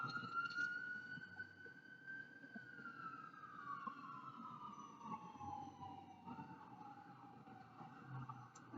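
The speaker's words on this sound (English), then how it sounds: "sorry about the sirens." Emergency vehicle sirens wail through the city, a sustained rising-and-falling tone that glides steadily downward and then shifts to a faster warble, heard at moderate distance over a constant low urban rumble.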